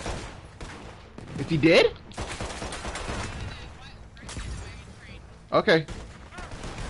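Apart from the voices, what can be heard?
gunfire in the video game Red Dead Online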